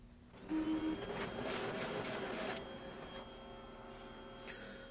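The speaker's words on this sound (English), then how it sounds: "When I click yes, it'll print out a report, and on the first page it'll show you your printer's IP address." Canon imageRUNNER copier running off a network report: a steady mechanical whir and hum with rising feed noise, a brief tonal whine near the start, moderately close and unaccompanied by talk.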